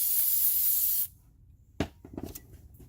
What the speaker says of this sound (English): So I'm going to go ahead and spray